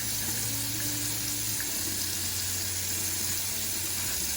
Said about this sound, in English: I'm going to wash this one with soap and a little scrubby.